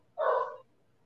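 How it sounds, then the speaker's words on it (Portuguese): Dogs at a home, one short, faint bark-like yelp heard from a distance in an otherwise quiet room. "Ó, a cachorrada da Ivanilda"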